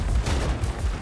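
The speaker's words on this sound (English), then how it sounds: "locking on enemies with the missiles is very satisfying" A quick volley of booming missile launches and impacts from War Robots: Frontiers, loud and rumbling, compressed into about a second.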